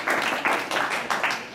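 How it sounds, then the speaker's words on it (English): A short burst of clapping from a debate audience, several quick bursts of hands together, fairly loud and close. "Please give applause."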